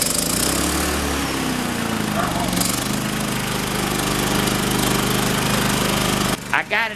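A new portable generator's engine runs loud and close with a steady rough drone and a shifting pitch early on, then cuts out abruptly near the end, where a voice is heard briefly.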